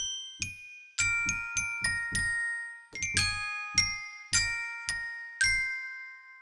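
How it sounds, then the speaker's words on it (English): Indi Glock virtual glockenspiel with long reverb: a dozen bright, ringing struck notes in an irregular melody, each with a shimmering tail that overlaps the next, clear and close with no voices. "So the reverb sounds like this."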